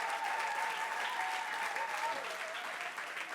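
Church congregation applauding the pastor's secretary during a worship service, a steady, dense round of clapping holding at even loudness throughout, with no voices rising above it.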